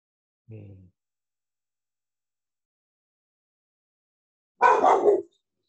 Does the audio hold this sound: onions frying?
no